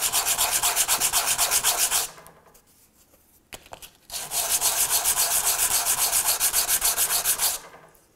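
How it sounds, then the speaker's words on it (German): Fine sandpaper rubbed over a small wooden spinning top, two long bursts of rapid, rhythmic back-and-forth strokes, loud and close, split by a short quiet pause with a few light knocks. "dann kann ich es mit feinerem Schleifpapier"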